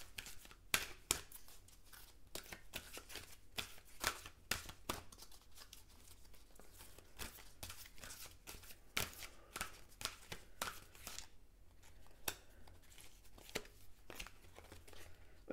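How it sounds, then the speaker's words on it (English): Tarot cards are shuffled and drawn close by, giving a quiet series of crisp, uneven snaps, riffles and slides with short pauses between them. "let's go ahead and draw one of these. See what is going on with these cards today."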